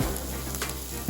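Chopped large onions and curry leaves sizzle steadily in hot oil in a kadai, a close, continuous frying hiss with no talking.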